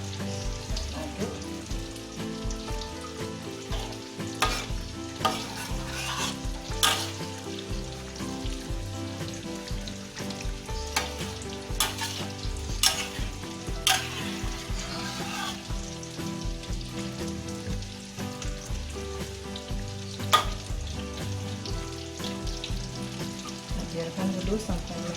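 Fern and shrimp curry sizzles and bubbles in a pan while being stirred, with the utensil scraping and clicking against the pan at irregular intervals over a continuous frying hiss.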